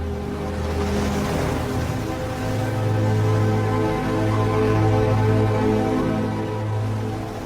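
Ocean waves wash steadily onto a shore in a continuous broadband roar, with a low steady hum underneath and no voices.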